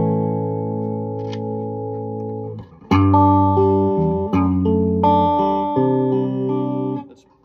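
Clean electric guitar chords ring out, sustained and bright, changing every second or so with a few sharp strums and no talking.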